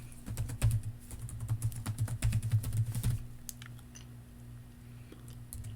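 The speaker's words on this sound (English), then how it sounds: "I'm going to type birthday" Quick clattering keystrokes on a computer keyboard for about three seconds, close and fairly quiet over a low electrical hum, followed by a few scattered clicks.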